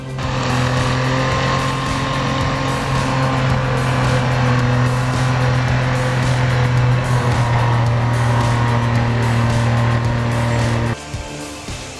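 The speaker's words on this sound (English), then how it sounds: "Driving a logging truck in Panguipuli?" A logging truck drives along a road near Panguipulli, its heavy engine giving a steady, loud drone that holds until it drops off sharply near the end.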